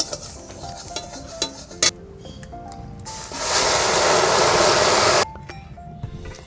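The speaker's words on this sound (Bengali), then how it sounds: "আমি বেশ অনেকটা জল দিয়েছি" Water is poured into a pot of frying moong dal, producing a loud, steady rushing hiss for about two seconds, preceded by scattered clinks and stirring sounds in the kitchen.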